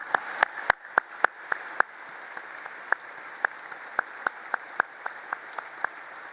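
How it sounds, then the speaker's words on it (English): Scattered applause from a luncheon audience for a Department of Defense delegation of the Joint Chiefs of Staff and General C.Q. Brown: sharp, separate claps in an uneven rhythm, fairly close, with no talk over them. "Let's give them all a round of applause"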